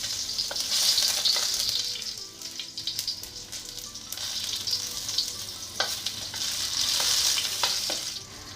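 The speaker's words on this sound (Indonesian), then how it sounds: "setelah minyak panas, lalu tumis bawang putih dan jahe" Garlic and ginger sauté in hot oil with a steady, fairly loud sizzle, broken by scraping spatula stirs and soft clicks of utensil against the pan, with no talking.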